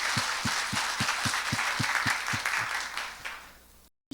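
A church congregation applauds the Hallelujah choir after its hymn, a dense wash of clapping with a faint steady beat underneath, fading out toward the end before cutting to silence.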